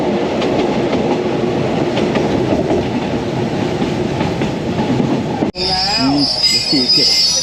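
A train rumbles and clatters along the rails at a railway station with loud, continuous wheel noise, then abruptly gives way to high metallic squealing as it slows.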